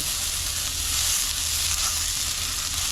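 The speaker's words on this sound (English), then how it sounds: "once I start mixing it, it'll fry up the rest of the onion there" Onion and rice fry in hot oil over high heat for Mexican rice, giving a steady, close, dense sizzle that holds evenly throughout with no talking.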